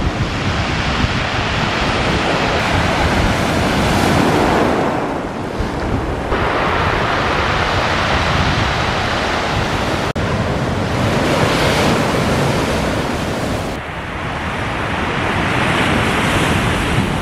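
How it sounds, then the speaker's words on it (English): Loud surf surging and washing over a pebble beach in France during a storm, waves rolling in and retreating in repeated swells, with wind noise buffeting throughout. "the simple, soothing sounds of the waves and the pebbles"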